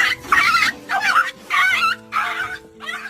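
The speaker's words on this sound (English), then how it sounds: "Dog got attacked by a gang of cats." A dog whimpers and yelps after being attacked by a gang of cats, giving four or five close, high, whining bursts separated by brief gaps.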